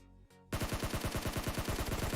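Gunfire in the PUBG Mobile battle royale game: after a brief muffled lead-in, a loud, rapid automatic burst of evenly spaced shots rattles on without pause to the end.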